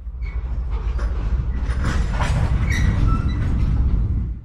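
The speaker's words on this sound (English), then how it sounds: "You can hear the trains around you" Trains rumble and clatter around the player in a London Underground tube driving simulator game, a continuous loud rolling roar with metallic squeals and clicks rising toward the end.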